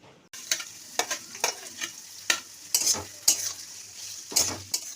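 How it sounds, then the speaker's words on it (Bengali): Onions fry in hot oil in a kadai to become birista, a bright sizzle carrying a run of rhythmic spatula scrapes and clinks against the pan, close and fairly loud. "কড়ায় তেল গরম করতে দিয়েছি এই পেঁয়াজগুলো এবার আমি বেদেস্তা করে নিই"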